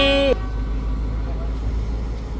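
Horn of a passenger train on the Nakhon Si Thammarat to Sungai Kolok line in southern Thailand, a loud harmonic toot lasting about a third of a second at the start, then steady rumbling train noise.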